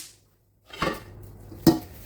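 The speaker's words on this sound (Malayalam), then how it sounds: "ഈ കുക്കർ ഇന്ന് വേറൊരു പാത്രത്തിലോട്ട് നമുക്ക് മാറ്റി കൊടുക്കാം" Metal pots clank as mutton soup is moved from a pressure cooker into another vessel: two sharp, close knocks of metal on metal after a brief silence, with no one talking.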